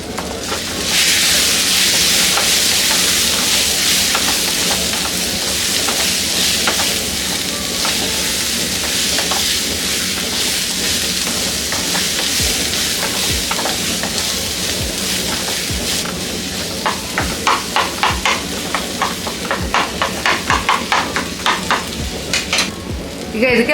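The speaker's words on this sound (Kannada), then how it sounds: "ಈ ರೀತಿ ಚಟ್ನಿ ಹಾಕ್ಕೊಂಡು ಒಂದು ಮೀಡಿಯಂ ಫ್ಲೇಮಲ್ಲಿ 1-2 ನಿಮಿಷದಷ್ಟು ಫ್ರೈ ಮಾಡಿಕೊಂಡ್ರೆ ಸಾಕು" Okra chutney fries on a medium flame with a steady, loud broadband sizzle throughout, joined near the end by a quick series of sharp scraping stirs against the pan.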